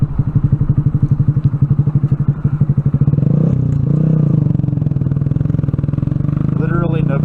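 A Honda Grom small motorcycle being ridden, its engine chugging in a fast rhythmic pulse close to the microphone, then settling into a steadier drone with some clatter, with no talk over it.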